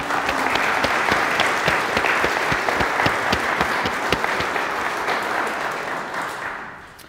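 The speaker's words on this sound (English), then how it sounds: "So let's give them a round of applause." A church congregation at an Easter Sunday service gives a steady round of applause, dense clapping that fills the room and slowly fades out over about seven seconds.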